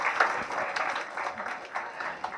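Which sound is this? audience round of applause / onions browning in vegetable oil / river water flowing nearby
audience round of applause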